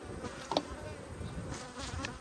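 Honeybees buzz around a wooden hive box with a white hive nearby, a steady close insect drone with a brief louder buzz as one passes near.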